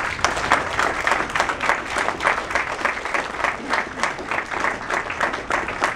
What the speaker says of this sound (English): All right, that's enough applause.